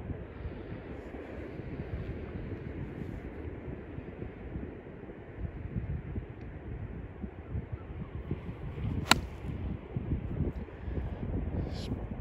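Wind buffeting the microphone on a golf course, a steady low rumbling roar with gusty swells that lasts throughout, plus one brief sharp tick near the end.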